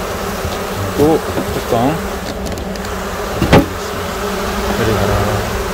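Honeybees from a swarm buzz around a hive box set up beside apartment street trees, a dense, loud, continuous drone with individual bees whizzing past close by. Someone speaks briefly over the buzzing.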